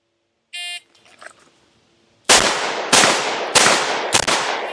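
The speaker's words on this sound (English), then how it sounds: "this time I have to fire 3 shots to the body and 1 shot to the head, all within that 4-second time limit." A timer beep starts a timed law enforcement handgun course stage, and four loud, close shots follow in a steady rhythm from an S&W Model 28 revolver, each crack ringing out briefly.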